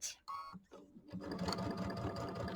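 Sewing machine fitted with an embroidery unit, stitching fabric: a quiet mechanical clatter that starts and stops in short bursts, then runs steadily, close by.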